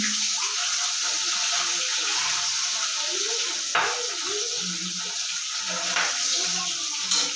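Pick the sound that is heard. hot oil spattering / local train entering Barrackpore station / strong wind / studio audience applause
hot oil spattering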